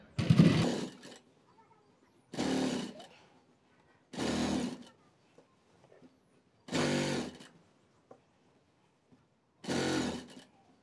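Sewing machine stitching a long khimar in five separate bursts of roughly a second each, with short quiet pauses between them. The machine is fairly close and no one talks.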